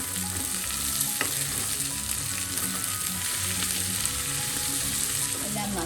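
Long beans (achinga payar) stir-fried in a pan for a Kerala-style mezhukkupuratti, with a steady close sizzle and repeated scraping and stirring strokes that continue throughout without any talk.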